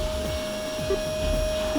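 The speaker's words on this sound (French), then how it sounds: "l'aspirateur, ça va pas spécialement m'enchanter tout ça" A vacuum cleaner hums steadily in the background with a constant whine, running throughout under faint room noise.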